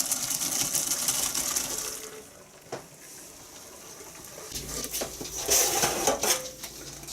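Cooked pasta and its water pour into a colander in a home kitchen for mac and cheese: a short rushing splash with light metallic clatter, then softer trickling and a second burst of splashing toward the end, no voices.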